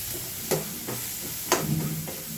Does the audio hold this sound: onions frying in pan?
yes